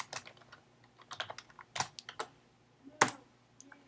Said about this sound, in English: So now if I type Stephen in